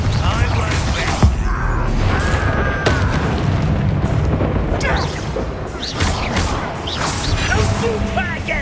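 Bombarda spell explosions go off in Hogwarts Legacy combat, with loud booms and crashes over a dense, constant layer of battle noise.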